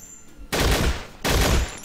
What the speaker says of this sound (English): The auto cannon that we can fall back on while we search.